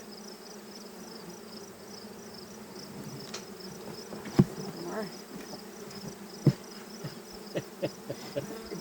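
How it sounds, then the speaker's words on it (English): A steady low buzz of many honey bees at an open-air hive hums throughout, with occasional sharp clicks and knocks and a brief voice in the background. "Get the bees off the edge, they're gonna get squished."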